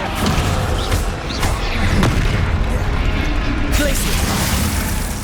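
Dense, continuous crackling and rumbling from the Descendo spell impact in the game Hogwarts Legacy, with loud bursts and booms layered over sustained broadband noise and a few sharp transient pops.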